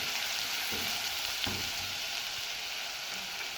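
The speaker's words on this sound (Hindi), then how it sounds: "अब मैं इसमें ऐड कर रही हूँ लहसुन का पेस्ट। इसको मिक्स करना है।" Garlic paste sizzles and fries in a pan for pizza sauce, a soft, continuous crackling hiss with faint stirring scrapes, quiet and close, with no talk.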